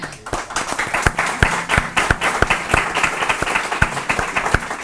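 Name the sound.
audience applause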